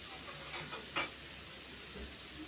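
Coral fish fries in a pan with a soft, steady sizzle, joined by a couple of brief stirring scrapes, quiet and close with nobody speaking.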